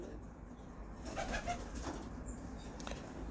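A female pigeon coos softly a few times at mid distance over a steady low background hum, with no talking.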